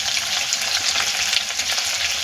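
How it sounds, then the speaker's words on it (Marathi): Chicken pieces fry on a high flame in an iron pan, giving a loud, steady, dense sizzle that fills the clip without pause and with no voices. "गॅसची फ्लेम स्लो नाही ठेवायची फास्टवरच ते फ्राय करून घ्यायचे"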